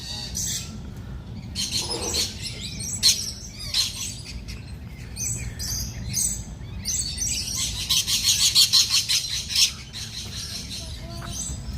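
Zoo birds chirp and squawk in repeated bursts, several calls overlapping at close to medium range, with a loud flurry of squawking near the end.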